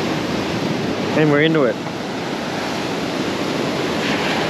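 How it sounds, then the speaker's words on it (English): Ocean waves break on the beach at Lake Bunga, a steady broadband wash of surf and wind that runs throughout, while someone speaks briefly over it. "You see here, the waves breaking there."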